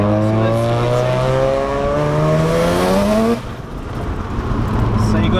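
A Mazda RX-7 Series 8 turbo rotary engine revs up in a rising, buzzing tone that climbs for several seconds, drops off sharply, then settles back into a rougher idle before building again, loud and close.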